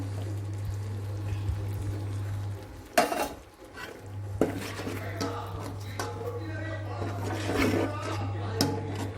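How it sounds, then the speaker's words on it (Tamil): Egg masala sautés in a pan, with utensil scrapes and clinks against the metal over a low steady hum, while a voice talks intermittently. "இது வந்து கொஞ்ச நேரம் நல்லா வதங்கி வரட்டுமா இது வந்து முட்டை வந்து நல்லா வதங்கி வந்துடுச்சுமா"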